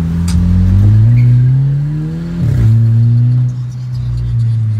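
Volkswagen Jetta TSI 2.0 with an exhaust diffuser revving hard, a loud, close engine drone that climbs steadily, dips briefly, then settles into a sustained throaty roar.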